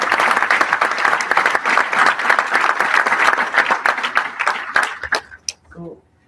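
An audience breaks into sustained, dense applause, many hands clapping together loudly for several seconds before thinning out into a few scattered last claps and fading.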